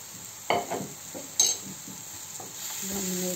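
A spoon scrapes and stirs a carrot and coconut mixture in a pan over a low flame, with a couple of sharp clinks over a faint sizzle, close and clear with no talking.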